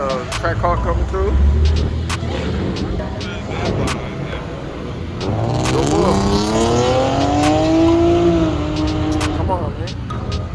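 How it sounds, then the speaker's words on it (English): A track car drives past at a car meet in Chicago, its engine note rising and sweeping loudly by while voices talk and shout nearby throughout. "Track car coming through."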